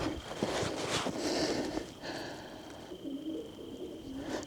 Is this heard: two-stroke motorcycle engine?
no